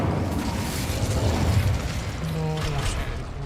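An Incendio spell cast in a video game sets off a loud, rumbling fiery explosion that roars steadily throughout, with a mechanical whirring tone rising near the end.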